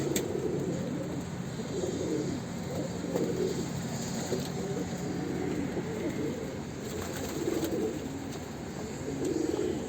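Pet pigeons kept in a home coop give soft, repeated throaty coos at close range, the rolling calls returning steadily over a constant low background hum.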